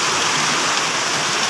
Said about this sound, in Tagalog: Napakalakas po ng ulan natin ngayon.